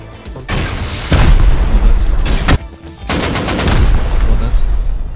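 Rocket blasts and gunfire from the survival game Rust: heavy booming bursts and rapid shots in two dense stretches, separated by a sharp pause, loud and close throughout.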